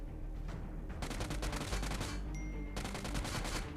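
Rapid automatic gunfire in PUBG Mobile, dense bursts of shots close and loud, broken by short pauses and echoing over the game's background rumble.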